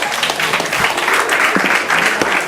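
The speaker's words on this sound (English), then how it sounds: "a round of applause for Charles." Audience applause after a talk on art law, a steady dense patter of many hands clapping close by, sustained with no pause and no speech.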